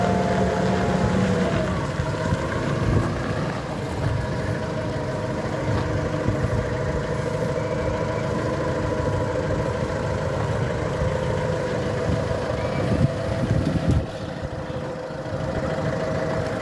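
A BTX D70 7-ton forklift's engine runs steadily while lifting a trailer skeleton, a continuous mid-pitched mechanical drone with small fluctuations and no talk.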